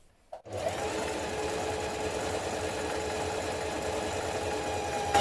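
A close sewing machine works a slow stretch stitch on leggings, stepping forward, forward and back, a continuous rhythmic chugging that starts after a short pause and keeps going without talk.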